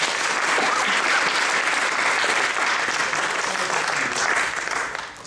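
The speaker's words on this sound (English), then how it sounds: "Can we give them another round of applause, please?" An audience at a tech talk applauds, a dense wash of many hands clapping at steady loudness that fades out near the end, with no voices over it.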